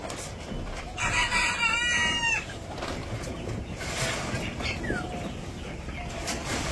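Village chickens cluck and crow faintly at a distance over a steady background hiss, with a clear burst of calls early on and a few softer calls afterward.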